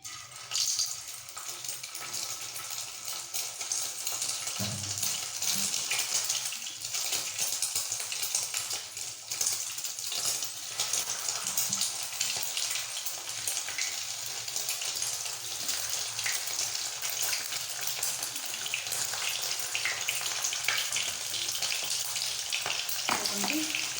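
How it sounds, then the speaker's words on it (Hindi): Eggs fry in hot oil in a pan alongside parboiled cauliflower for an Odia egg-and-cauliflower curry, giving a steady, close, continuous sizzle with faint stirring scrapes and no one speaking. "मु तेल गरम कर देछि। तापर ये जो फूलकोबी तक जो सिझे रखी थी ये अंडा एमती गुड़ेकी फ्राए करदे"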